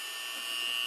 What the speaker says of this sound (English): You got to very carefully Dremel it out without cutting into the latex.